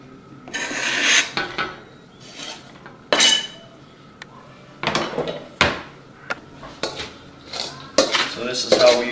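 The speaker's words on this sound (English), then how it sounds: "we'll mix it up with the rice, throw it in a casserole dish" Leftover cabbage rolls being mixed with rice in a casserole dish, with repeated clanks and scrapes of a utensil against the dish in uneven bursts separated by brief quiet gaps, close and fairly loud.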